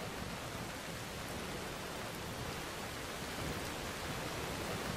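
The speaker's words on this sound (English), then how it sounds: "And here's the rain, just like before." Heavy rain in modded Skyrim Special Edition with enhanced ENB and NAT weather, a dense, even hiss of downpour that holds steady throughout with no voices.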